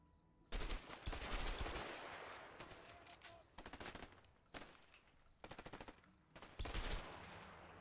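Rapid bursts of automatic gunfire from a video game, loud and close, come in several separate volleys with short gaps between them, some bursts sustained and others clipped and stuttering.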